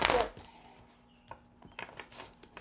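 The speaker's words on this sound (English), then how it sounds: "One deck is easier for me to shuffle than the other." A deck of tarot cards being shuffled by hand, several quick, soft riffles and taps of cards in short bursts with pauses between them in a quiet room.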